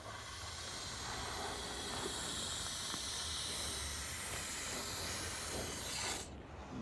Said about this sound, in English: we're just attaching the tube to the end of an air duster which you can pick up from Wilko's or any supermarket